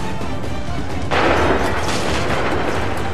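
Cannon fire erupts in Assassin's Creed 3, a sudden loud blast midway that rolls into a sustained rumbling barrage over a low battle din.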